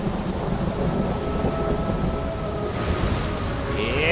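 A rumbling thunderstorm with heavy rain pours continuously in the video game Ori 2, a loud steady roar of rainfall under low thunder, with a faint tonal whine rising near the end and no voices.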